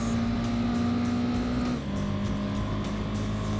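A race car with a single off-centre exhaust roars at high revs in Gran Turismo 2, holding a steady loud engine tone before shifting down to a lower pitch partway through, with no voices.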